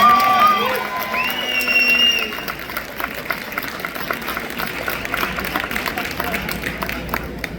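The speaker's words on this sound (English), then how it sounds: "Please, let's give a round of applause for Lisandra Morales." A crowd at an awards dinner breaks into clapping and cheering after a brief voice at the start, and the applause carries on steadily at moderate loudness for several seconds.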